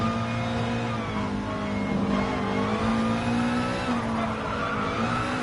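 A BMW M6 race car engine in Gran Turismo Sport drones steadily at high revs with a strong, sustained tone that rises and dips slightly, with faint tire noise under it.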